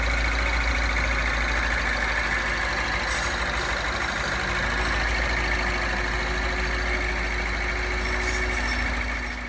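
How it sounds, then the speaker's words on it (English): A MINI Cooper S JCW with a newly fitted turbocharger idles steadily for a run-in, giving a constant low engine drone with a faint whine on top, loud and close, with no talk. "let the turbo run in for half an hour idling."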